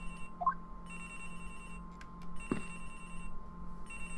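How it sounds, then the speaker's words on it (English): Telephone ringing in the Ace Attorney Investigations video game, repeated electronic ring bursts in a steady rhythm over a faint hum, with a short thud partway through and no talking. "phone! It's ringing from somewhere, sir!"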